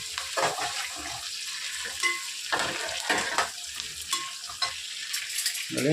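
Tempering frying in ghee for chicken biryani, crackling sizzle broken by irregular clinks and scrapes of stirring in the pan, close and fairly loud.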